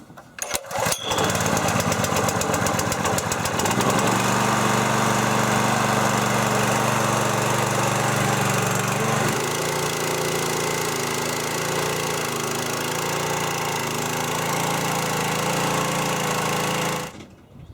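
A gas pressure washer engine is pull-started with a couple of quick cord pulls, then catches and runs steadily at about three-quarter throttle, a loud, close, continuous mechanical drone that shifts pitch partway through before cutting off.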